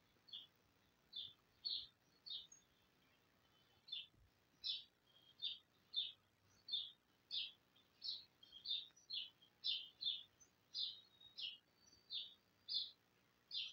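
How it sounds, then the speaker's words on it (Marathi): Birds outdoors chirp in a long run of short, high calls repeating about twice a second, faint and somewhat distant against quiet surroundings. "इथे आवाजच खूप असतो. पक्ष्यांचा आवाज असते"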